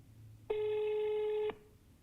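A single electronic telephone ring tone sounds for about a second, clear and steady, in a quiet room.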